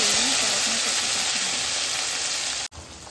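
Onion and tomato paste frying in hot oil, a steady close sizzle with broad hiss that runs continuously before cutting off abruptly near the end.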